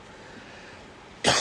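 A person gives one sharp, close cough at the very end, after a second of near silence.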